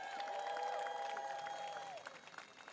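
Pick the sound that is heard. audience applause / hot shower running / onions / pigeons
audience applause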